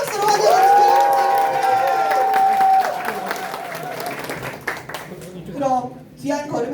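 Party members at a Daejeon meeting applaud to welcome arriving guests, with steady clapping under a sustained, singing-like tone and loud amplified speech, thinning into scattered claps and voices near the end.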